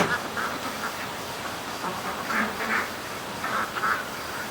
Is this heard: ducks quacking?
yes